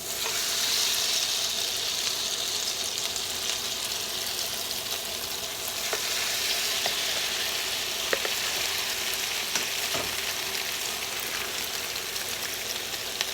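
Egg foo young mixture, dropped into a hot pan one spoonful at a time, fries with a dense, continuous sizzle like light rain and a few soft ticks and pops, steady and close for the whole stretch, with no talking.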